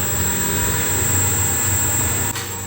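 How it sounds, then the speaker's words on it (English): A coffee roaster's drum and exhaust fan start up in a small startup roastery, giving a loud, steady, continuous roar with a low rumbling hum that drops slightly near the end. "I'm gonna turn the drum and exhaust on, which will get loud, turn the burner on"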